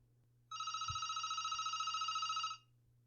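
A landline telephone rings as a horror story sound effect, one sustained electronic ring of about two seconds with a fast warbling pulse, clear and alone against near silence.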